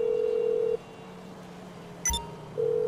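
Phone ringing tone in Grand Theft Auto V Online while calling the mechanic contact: a steady electronic tone stops, a brief electronic chirp follows, and then the tone starts again, clear and alone.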